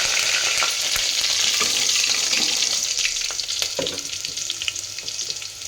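Cumin, mustard seeds, garlic and curry leaves sizzling in hot oil for rasam, a steady bright crackle with a few stirring clinks, loud and close, easing slightly toward the end.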